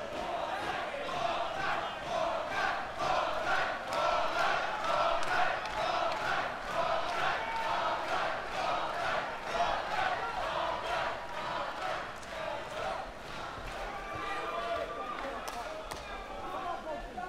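Dense arena crowd at a 2011 ROTR 3 Bogdan Zarcu versus Khaled Al Jasser fight, roaring and shouting steadily with sharp bursts throughout, loud and continuous with faint voices mixed in.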